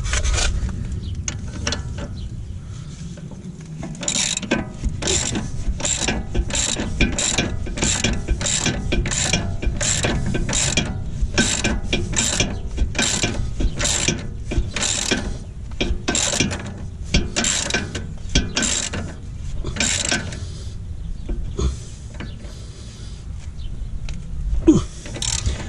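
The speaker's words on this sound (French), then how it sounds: "Bon, on serre correctement, à savoir qu'avec des clés pas trafiquées, avec les bonnes longueurs, on applique le bon couple." A hand ratchet wrench tightens the front shock absorber bolts on an Audi A4 B8, making a close, rapid series of clicking strokes that repeat steadily with short pauses.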